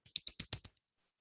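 A voice imitates teeth chattering from cold, a quick burst of about six sharp clicks that taper into two faint ticks, heard close and alone.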